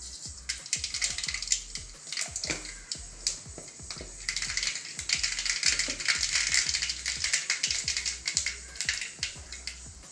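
Quarter teaspoon of mustard seeds spluttering in well-heated coconut oil for a Kerala-style chickpea curry, a dense run of sharp pops and crackles over a steady sizzle, close and continuous throughout.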